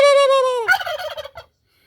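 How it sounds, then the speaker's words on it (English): A pet turkey gobbles once, loud and close, a sustained rising call breaking into a rapid rattling burble before silence. "My turkey y'all is showing off today."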